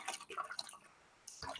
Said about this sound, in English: I'm going to rinse out my bowl.